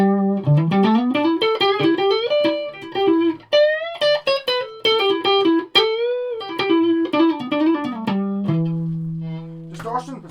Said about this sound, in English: And then you put the distortion on, which is what I prefer.